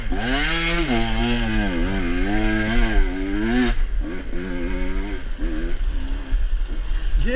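A 2024 KTM 125 XC-W fuel-injected two-stroke dirt bike climbs in first gear, its engine note loud and close and rising and falling as the revs change.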